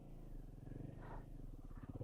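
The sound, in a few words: motorcycle engine at biting point while rolling backwards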